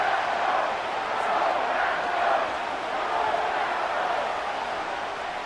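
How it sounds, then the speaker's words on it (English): A stadium crowd in the American football game Madden 25 roars before a third-and-goal play late in the game, a steady broad wash of loud cheering that swells slightly and never breaks. "This crowd doing everything they can before 3rd and goal."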